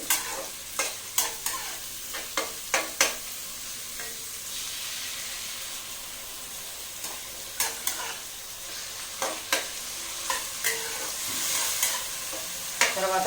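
Tomato with onion and green chillies sizzles steadily in a pan, with a spoon scraping and stirring in repeated sharp strokes over the constant frying hiss, close and clear with no talk.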